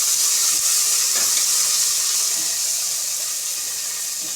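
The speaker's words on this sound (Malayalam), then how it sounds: "നമുക്ക് ചെറിയ ഉള്ളി ഒന്ന് വഴറ്റി കൊടുക്കാം" Small onions sauté in coconut oil with a constant loud, bright sizzling hiss that holds steady throughout, close and uninterrupted, with no voices.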